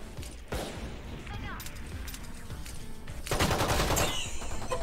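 Valorant gunfire in an Escalation match, scattered sharp shots early then a dense rapid burst near the end, moderately loud beneath a speaking voice.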